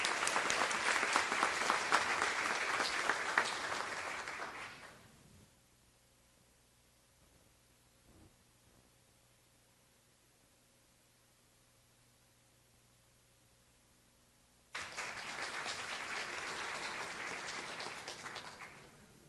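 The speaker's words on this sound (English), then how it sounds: "We'd love to give you a round of applause as well." An audience at a school board work session claps in two strong bursts, about five seconds each, separated by roughly ten seconds of near silence with a faint low hum in the room.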